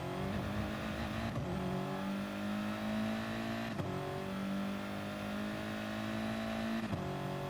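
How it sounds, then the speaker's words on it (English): A Porsche race car in a GT Sport online race at Monza screams down the straight, its engine holding a steady high whine with a few quick gear-change dips as it passes. "we see here a very fast Porsche here on straight"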